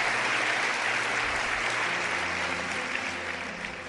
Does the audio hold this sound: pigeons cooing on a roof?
no